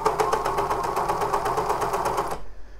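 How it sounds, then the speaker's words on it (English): A serger stitches a knit moto jacket sleeve seam with a rapid, steady mechanical chatter close to the mic, then stops abruptly near the end. "I am serging this directly in."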